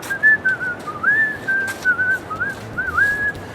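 A person whistles a smooth, flowing tune alone, the melody gliding and bending in pitch with a few brief dips, steady and moderately loud throughout.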